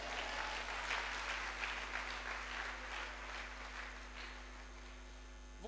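A church congregation applauds in a steady, fairly faint wash of claps over a constant low electrical hum, with the clapping slowly thinning toward the end.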